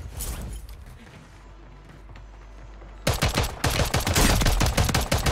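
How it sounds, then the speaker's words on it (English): Rapid automatic gunfire in the Call of Duty: Modern Warfare III video game, a dense burst of repeated shots that erupts loudly after a quieter stretch of game ambience and keeps hammering to the end. "They're shooting at you now."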